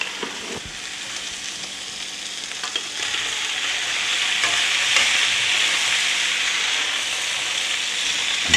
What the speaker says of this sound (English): we'll stir it in along with the pasta